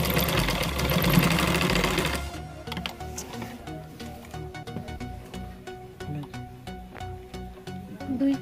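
Sewing machine stitching a neck strip onto a maxi dress, a dense loud run of stitching for about two seconds, then quieter, uneven bursts of stitching and fabric handling follow.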